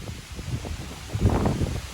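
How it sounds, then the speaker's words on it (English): Wind on the Appalachian Trail buffets the microphone with a low rumbling roar that swells louder toward the end, and no voices are heard. "Oh, it's windy out here."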